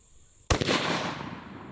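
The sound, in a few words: rifle shot, 6.5 Creedmoor Hornady Precision Hunter ammunition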